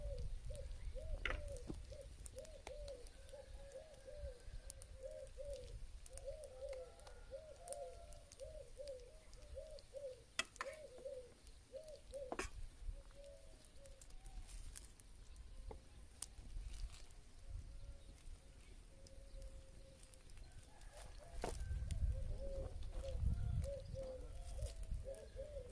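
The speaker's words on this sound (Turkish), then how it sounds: "Kuşlar ne güzel ötüyor ki ama. Guguk kuşu." A cuckoo calls again and again at a distance in a garden, soft repeated notes over quiet outdoor background with occasional faint clicks.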